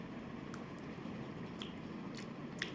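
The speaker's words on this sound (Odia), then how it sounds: "ମୁଁ ବହୁତ ଦିନ ପରେ ଆଜି ମ୍ୟାଗି ଖାଉଛି" Soft, close chewing of Maggi instant noodles with a few faint wet bites against steady low background hiss; no talking.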